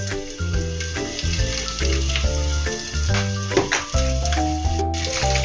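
Corn kernels sautéing in a pan for a Filipino ginisang mais with malunggay, a steady close sizzle and crackle running throughout with occasional stirring scrapes, while music with a clear melody and bass plays over it.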